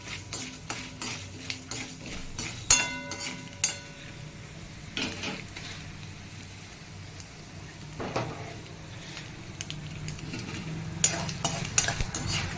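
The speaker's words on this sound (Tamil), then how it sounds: "கடுகு நல்லா பொட்டி பருப்பு எல்லாம் நல்லா சவந்ததுக்கப்புறம்" Mustard seeds, urad dal, chana dal and dried red chilies frying in oil for a cabbage poriyal tempering, with steady close crackle and sizzle, scattered sharp pops and metal spoon scrapes and clinks against the pan.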